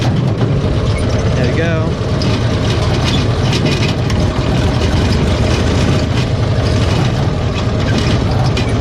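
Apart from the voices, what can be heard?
Cushman Truckster engine starting and idling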